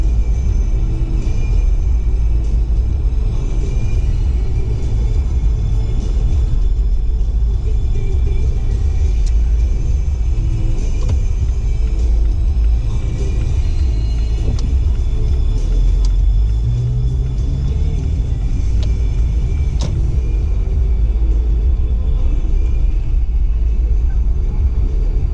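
A car drives along 8th Avenue in New Westminster, heard from inside as a steady, loud road rumble and engine hum that never lets up.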